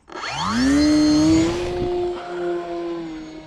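A P51D Mustang RC plane motor throttles up on takeoff, a loud whining tone that quickly rises in pitch, holds steady at full throttle, then fades somewhat as the plane moves away.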